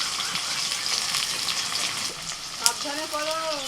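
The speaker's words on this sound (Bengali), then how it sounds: "পেঁয়াজ এখানে কুচোনো আছে দিয়ে দিচ্ছি" Chopped onions hit hot mustard oil in a home kitchen and fry with a steady, close hiss and crackle, stirred throughout, with a sharp clink near the end and a voice starting to talk over the sizzle.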